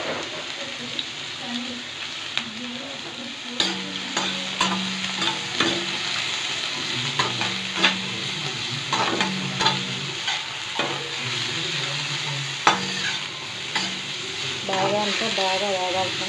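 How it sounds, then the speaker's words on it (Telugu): Ridge gourd peel fries in a little oil in a kadai, a constant close sizzle broken by repeated scraping and stirring knocks of a spoon against the pan, with no talk. "తర్వాత బీరకాయ తొక్కు మొత్తం ఇందులో బాగా వేగేలా చేసుకోవాలి."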